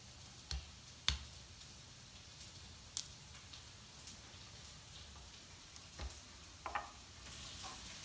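Onions frying in a pan give a soft, steady sizzle at low volume, with a few brief clicks and taps breaking through now and then.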